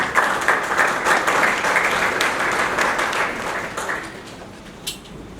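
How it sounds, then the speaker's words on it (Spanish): Audience applause at an internal audit event in Peru, steady dense clapping from a crowd that swells and then thins out toward the end, with one final clap standing alone. "Un aplauso, por favor."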